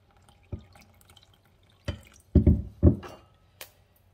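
A few separate splashes and drips of water landing in a bowl of nokedli dough mixture, short bursts with gaps between them, close and fairly quiet.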